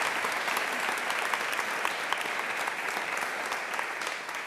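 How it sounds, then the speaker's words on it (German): Audience applause for a jazz quartet at a talk show, a dense, steady stream of many hands clapping with individual claps popping out, fading slightly at the end. "Applaus bitte."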